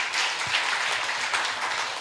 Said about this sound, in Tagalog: Malakas na palakpak para sa Panginoon.